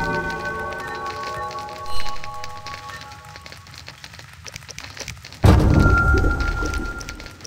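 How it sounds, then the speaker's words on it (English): Steady rain falls in The Witcher video game, a broad hiss that lasts throughout and swells louder with heavier pouring near the end, accompanied by a rumble like thunder. "It rains and it pours."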